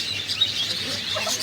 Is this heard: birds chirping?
yes